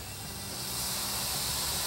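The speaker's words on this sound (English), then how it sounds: "Hear that sizzle?" Steak searing in a hot pan on a cooking segment, giving a steady broadband hiss that swells slightly, fairly faint and alone without voices.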